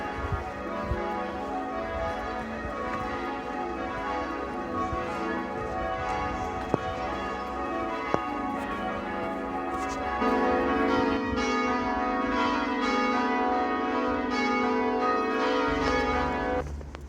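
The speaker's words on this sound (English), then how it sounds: "Just hear St James's bells ringing out." St James's church bells, rung by hand by bell ringers pulling ropes, peal continuously through a Sunday stroll near a closed-up port; overlapping tolls carry clearly and grow fuller partway through, with faint street sounds beneath.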